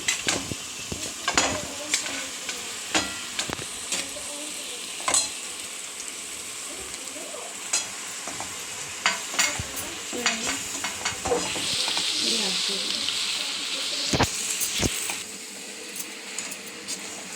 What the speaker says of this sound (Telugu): పాస్తాని ఇలా కలపాలి.